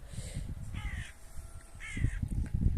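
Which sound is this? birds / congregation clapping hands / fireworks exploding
birds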